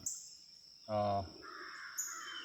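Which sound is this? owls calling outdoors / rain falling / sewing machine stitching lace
owls calling outdoors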